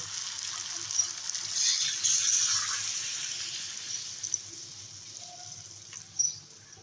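Water poured into a pot of simmering jackfruit curry, a steady hissing gush with a faint sizzle underneath, close by, ending with a short clink near the end.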